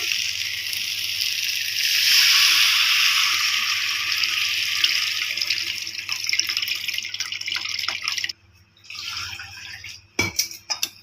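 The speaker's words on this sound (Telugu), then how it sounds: "ఇప్పుడు చింతపండు నీళ్ళు కలుపుకున్నాం కదా, అవి పోస్తున్నాను." Tamarind water pours into a hot pan of tempered spices for rasam, a steady hissing splash that lasts several seconds before tapering into a few brief clinks and drips.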